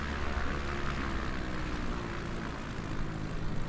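A light propeller aircraft sits on the runway after landing, its engine droning steadily and loud at close range with a constant hum throughout, no talk.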